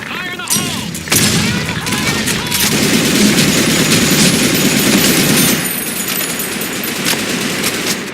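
Heavy gunfire and an explosion in a combat video game set on Sand Storm 2: dense rapid automatic fire and booms sustained throughout, loud and close, after an opening burst of sharp shots.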